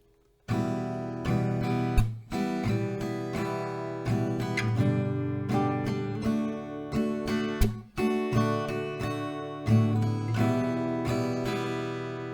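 Acoustic guitar chords for a song are strummed slowly in a down-down-up pattern, ringing clearly and close with no voice over them.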